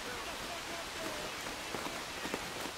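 Steady rain falls across a Civil War battlefield in War of Rights, a broad continuous hiss with faint scattered drop ticks and a few soft background noises, no clear voices.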